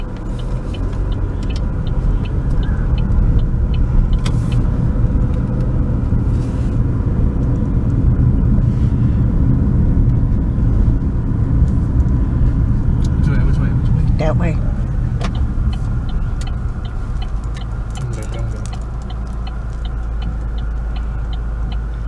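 A car drives around the streets of Lake Providence, Louisiana, with a steady interior engine and road rumble throughout and a few faint clicks and knocks along the way.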